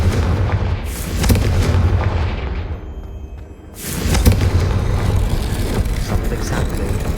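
Confringo blasting spell exploding in Hogwarts Legacy, a heavy rumbling boom that swells, dips, then erupts again into a loud, sustained roar of blasts and debris.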